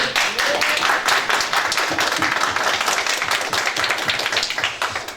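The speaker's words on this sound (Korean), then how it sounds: "박수 주세요, 박수." Reporters and attendees at a South Korean general election candidate's press conference in Yeoju-Yangpyeong clap together, a close, brisk burst of many hands sustained evenly before trailing off at the end.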